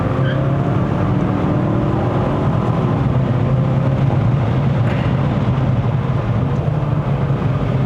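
A 2020 Mazda CX-5 2.5 Turbo 4WD climbing a mountain road in Malaysia, heard from inside as a steady, subdued engine drone over continuous road and tyre rumble, with no strong exhaust note and no talking.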